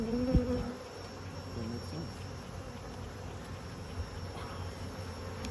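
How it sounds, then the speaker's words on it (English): Honey bees buzz steadily inside an open beehive with plastic foundation during a hive inspection, a dense, continuous hum close by, with a brief voice near the start. "this thing is full of bees"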